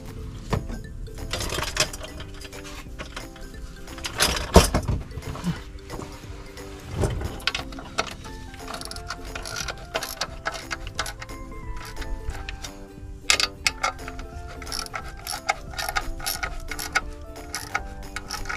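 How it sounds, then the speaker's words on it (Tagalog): A ratchet wrench tightening bolts during a manual transmission clutch replacement, with repeated clicking ratchet strokes and metallic clanks, close and fairly loud, mostly without talk. "Ngayon, higpitan na natin itong mga bolts."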